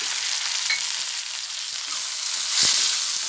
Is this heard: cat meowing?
no